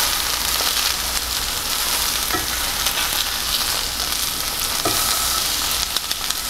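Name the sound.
deer tenderloin searing in a pan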